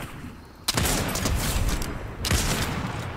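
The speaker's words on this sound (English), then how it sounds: "Well, Jones is shooting back." Rapid bursts of video game gunfire from a squad firing back, loud and dense, with sharp onsets near the start and again past two seconds; no talk over it.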